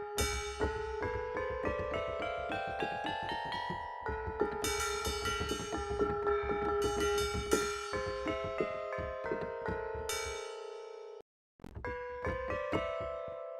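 Small gong sounds from a Punch-2 sound module ring out as a run of bright metallic hits with shimmering overtones, each with a long decay. They follow one another closely, and there is a short break near the end.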